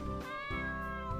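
A single drawn-out cat meow in the video game Shrift 2, clear and close, with a bright tonal cry that rises and sustains for about a second.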